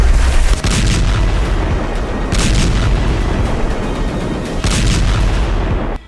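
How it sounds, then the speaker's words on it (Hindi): Heavy, repeated blasts from buildings hit by Israeli air strikes in Gaza, booming as loud, continuous rumbling with a few stronger bursts; no talking. "गाजा पट्टी और वेस्ट बैंक में हवाई हमलों में फिलिस्तीन और हमास के लोगों की इमारतें तरबूज की तरफ फट रही हैं"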